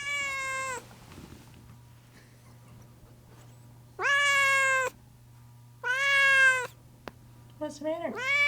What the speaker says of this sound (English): Oh, there's a kitty cat looking for me.